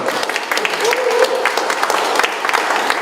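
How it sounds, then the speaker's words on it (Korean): Audience applause for a lecturer at a Korean forum on national security law, a steady wash of clapping from a seated crowd filling the whole stretch, with a voice faintly audible underneath. "성 교수님께 다시 한번 큰 박수를 부탁드립니다"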